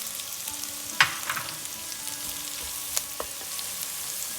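Spring onion stir-fried in a pan for chilli garlic and egg fried rice made with leftover rice: a steady close sizzle with a few sharp spoon scrapes and taps.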